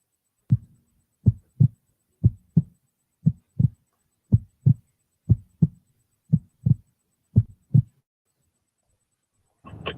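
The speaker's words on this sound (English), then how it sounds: "Did y'all hear the theatrics of the heart beating in the back?" A dramatic heartbeat sound effect inside a played video: steady paired thumps, about a dozen evenly spaced double beats, loud and alone with no talk.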